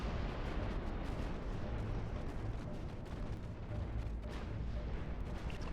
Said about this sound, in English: there's a chance that we might get hit with some torpedoes